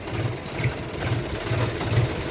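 A tractor engine runs steadily up close, giving a low, rhythmic throbbing pulse roughly twice a second with no talk over it.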